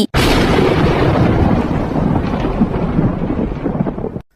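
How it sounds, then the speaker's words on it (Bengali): A cartoon thunderstorm with rain opens with a sudden loud thunderclap that rolls into a long, heavy rumble, fading out after about four seconds. "দেখো বাইরে কত ঝড় হচ্ছে, কত বৃষ্টি"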